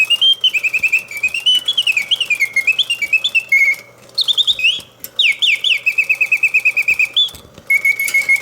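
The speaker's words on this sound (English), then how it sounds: "The bird whistle is very sweet." Sweet, shrill whistling from a vintage French Bontems mechanical singing bird cage, running through rapid trills and sliding chirps up close, with brief gaps between phrases.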